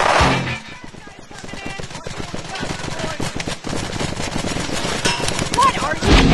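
Rapid paintball gun fire fills a Greg Hastings Paintball 2 match on Xbox 360, a dense continuous stream of popping shots with brief voice sounds at the start and end.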